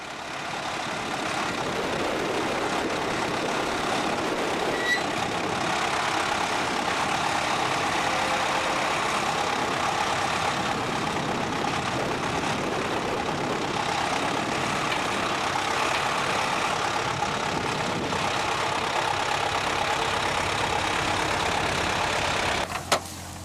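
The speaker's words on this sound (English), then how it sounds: "after an initial backward movement, the wheels begin to spin and the Renault just digs herself deeper into the ground." A Renault tractor's engine runs steadily while its wheels spin in deep mud on a farm, a loud continuous drone with no talking.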